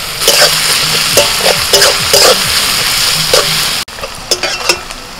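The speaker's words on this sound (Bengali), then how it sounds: "এবার দিচ্ছি পেঁয়াজ কুচি।" Chopped onion with a pinch of salt frying loudly in a pan, a close, steady sizzle broken by several spatula scrapes and a brief cut near the end, no talking.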